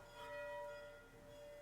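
Church bells ring faintly at a distance during the COVID pandemic, a sustained metallic tone hanging over soft outdoor background noise, with no voices.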